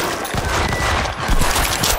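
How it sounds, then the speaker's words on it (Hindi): Loud, close machine-gun bursts rattle in rapid succession in the video game World War Z, in a Tokyo level, a steady, dense volley of gunfire with no speech over it. "Sounds like those shots came from the bus."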